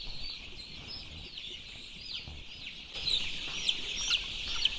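Chickens at a poultry farm during fowlpox vaccination cluck and chirp steadily in a dense flock, with sharper calls rising near the end over a constant background hum.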